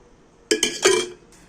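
A spoon clinks against a pot while masala is mixed with ghee for Peshawari chapli kebab: three quick, close metallic knocks in a row, then a faint final tap.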